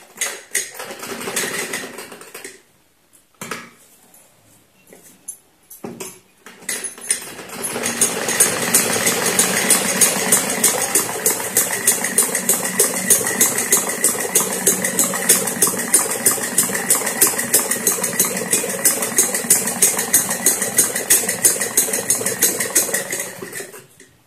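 After some handling rustles and short starts, a sewing machine stitching a semi Patiala salwar settles into a long, fast, even run of rapid needle strokes, close and loud, with no talking.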